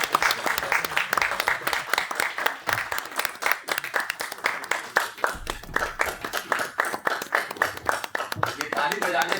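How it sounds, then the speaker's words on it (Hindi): An office retirement party audience claps continuously in a dense, uneven burst of hand claps, with a voice speaking over the applause. "लगातार तालियां बजाइए।"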